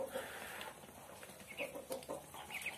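Muscovy ducks (entok) on a small home farm give soft, scattered clucking and low calls, fairly close, with faint farmyard background and no speech.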